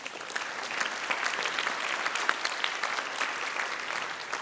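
A crowd at a church congregation event breaks into steady applause, dense overlapping claps sustained evenly throughout with no talking on top.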